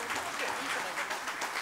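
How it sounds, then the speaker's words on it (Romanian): Audience applause at a folk music festival competition for instrumental soloists in Sălaj, a steady dense clapping from a crowd that fills the whole moment, with a voice faintly under it. "doresc încă o dată să le oferim aplauze puternice și felicitări tuturor concurenților"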